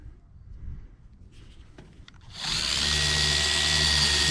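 A 12mm-throw mini car polisher, Adams versus Rupes, switches on midway and runs with a steady, loud high-pitched whine and hum after quieter handling noises.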